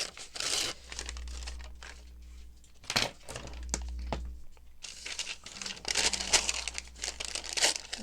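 A brown paper bag is crinkled and torn by hand up close, giving bursts of rustling and ripping separated by short pauses, with a faint low hum underneath.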